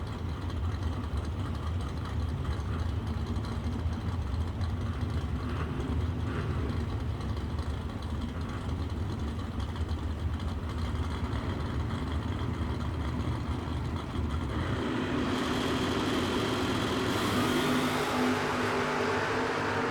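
A Chevrolet Malibu and a Chevrolet Monza drag race car rumble loudly at a drag strip, a steady throaty idle building into a harsher, brighter roar as they launch near the end.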